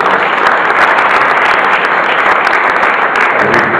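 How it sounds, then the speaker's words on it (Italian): Audience applause at a gymnastics club presentation, a dense steady wash of clapping, loud and close, filling the whole stretch without a break. "un applauso a Silvio"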